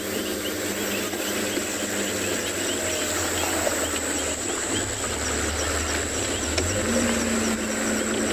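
Frogs and insects call steadily through a summer night on a Tswalu safari, forming a dense, continuous chorus of chirps and trills at an even moderate level with no voices.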